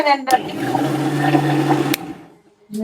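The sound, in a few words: mixer grinder running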